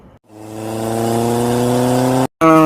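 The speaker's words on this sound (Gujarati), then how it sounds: "બાઇક ને 200 ની સ્પીડે હાંકીને આપણે થઈ ગયા હતા વિરંગામ બાજુ રવાના." A motorbike engine ridden at speed on the road to Viramgam climbs in pitch as a strong, buzzing drone, close and loud. It breaks off briefly near the end before returning.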